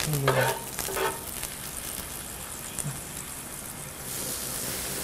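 Beef sizzling in a very hot pan for a Thai-style clear beef salad, a steady, fairly close frying hiss with brief voices at the start.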